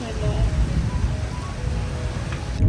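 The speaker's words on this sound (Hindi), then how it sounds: "आज बहुत ही हसीन मौसम है, तेज़ बारिश हो रही है" Heavy rain pours in Islamabad, a steady dense hiss with a low rumble filling the whole stretch, loud and continuous, with faint background tones but no clear talk.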